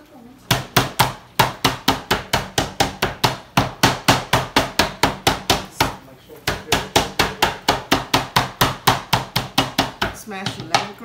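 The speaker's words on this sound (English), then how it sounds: "Smash your lemongrass." Lemongrass being smashed on a board, a rapid run of sharp, loud, evenly spaced thuds close up, with a brief pause midway before the pounding resumes.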